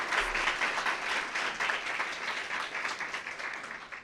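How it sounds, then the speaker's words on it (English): Audience clapping at a luncheon honoring inspiring women, a steady wash of applause lasting several seconds at moderate distance. "Let's give those folks a round of applause."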